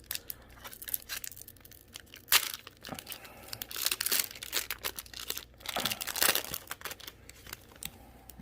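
A Yu-Gi-Oh! Ghost From The Past booster pack wrapper being torn and crinkled open, with bursts of crisp foil rustling and ripping close up, loud and irregular, and no voices.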